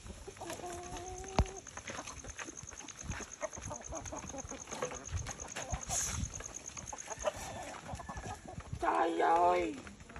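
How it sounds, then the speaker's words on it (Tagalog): Pet chickens cluck and call steadily during feeding, with a rooster-like crow near the end and some faint background voices. "Nagpakain ng mga alagang manok si Intoy Bulantoy."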